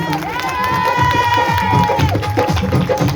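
An audience at a Hindu religious discourse breaks into a dense burst of clapping and crowd noise for the examiner, with a sustained tone running through the middle and voices mixed in.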